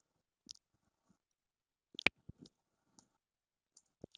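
Mouse clicks in the Freshworks admin back office, a few faint, sharp, isolated taps spread across a quiet stretch with no talking.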